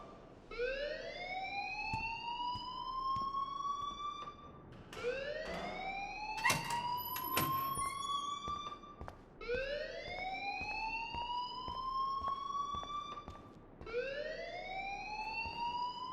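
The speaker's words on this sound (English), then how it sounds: "please turn off that alarm since that's your job" An electronic fire alarm in the Life Is Strange video game wails in repeated rising sweeps, each lasting a few seconds with short gaps between, steady and fairly loud, alone without speech.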